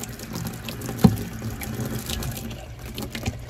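Hot tap water runs steadily into a bottle being rinsed, a continuous splashing, gurgling flow heard close up, with one brief louder knock near the start.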